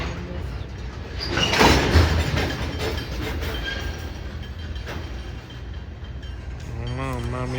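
UP/BNSF freight trains rumbling past with rolling wheel noise and clatter, loud and close, swelling early and then holding steady, with a brief horn-like tone near the end.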